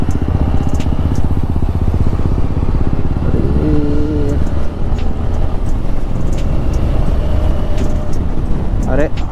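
A motorcycle rides along a Konkan road near Dapoli, its engine droning steadily and loudly throughout, with rushing wind and a brief voice or horn-like tone partway through.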